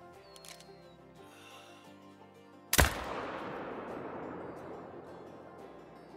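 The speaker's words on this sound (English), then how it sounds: "we're going to be going for a shot on this buck here at about 350 yards" A single loud rifle shot rings out at a buck roughly 350 yards away in the hunting game Call of the Wild, a sharp crack followed by a long rolling echo over quiet ambient background.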